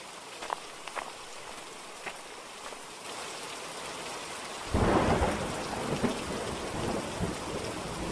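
Rain falls steadily while scattered thunder rumbles, and about midway a heavy roll of thunder swells in and then sustains under the downpour, in a cartoon scene.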